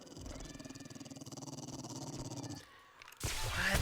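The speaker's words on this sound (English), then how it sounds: "And the dogs are a problem." Dogs in the Darkness Falls mod of a survival game growl in a low, pulsing rumble that cuts off, followed by a burst of louder noisy game sound.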